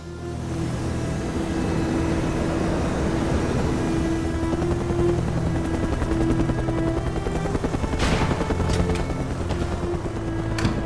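A helicopter in the video game Mercenaries 2: World in Flames drones loudly and steadily with a constant rotor thrum and engine whine, a brief metallic clatter cutting through near the end.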